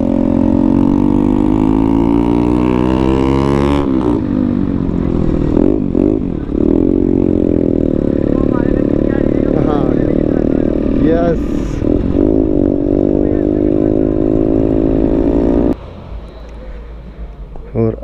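A group of Harley motorcycles rides together on the road, their engines rumbling loudly and continuously close by, with rising and falling revs and a voice talking over the noise.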